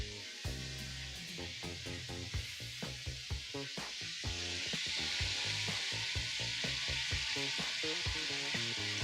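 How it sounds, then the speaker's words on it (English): Chicken sizzles and spits in a hot pan, a steady frying hiss with scattered crackles and light stirring clatter, close up with no talking. "We got chicken frying."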